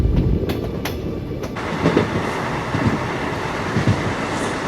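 The 17418 Shirdi to Tirupati weekly express rumbles along the track, loud and close, with a steady rolling clatter of wheels throughout and no talk.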